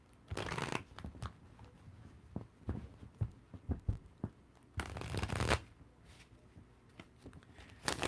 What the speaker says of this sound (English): I'm having a hard time shuffling the cards right now